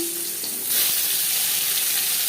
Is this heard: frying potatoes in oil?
yes